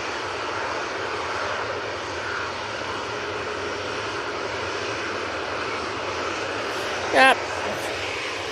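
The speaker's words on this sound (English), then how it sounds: "TUI Dreamliner" A TUI Boeing 787 Dreamliner airliner at Manchester Airport produces a steady, broad jet engine roar that holds at a constant level throughout, with a brief voice near the end.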